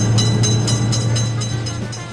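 In an Indian railway crossing video game, a train rolls past a level crossing with a steady low rumble and rhythmic pulses from its wheels, loud and close throughout.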